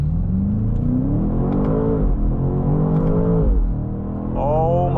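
A 2024 BMW X5 M Competition SUV launches hard off the line, its engine rising in pitch through a rapid climb, briefly dipping at a shift, then surging again, heard loud and close from inside the cabin.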